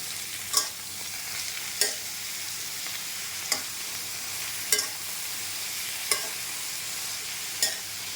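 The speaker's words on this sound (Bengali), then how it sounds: "নেড়ে দেব" Taro frying in a pan gives a constant hissing sizzle, and a spatula strikes it with sharp, evenly spaced clicks about every second or so as it is stirred up close.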